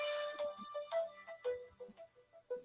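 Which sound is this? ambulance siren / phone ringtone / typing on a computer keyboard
phone ringtone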